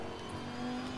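Race car engine in Assetto Corsa Competizione, held steady in third gear at around 120 km/h, a continuous loud droning note with a rising tonal whine, no talk.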